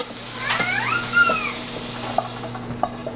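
Chopped vegetables for lumpia stirred and frying in a pan, a soft steady sizzle under scraping stirs with a few sharp clinks of utensil on the pan, close and moderate in level with no talking.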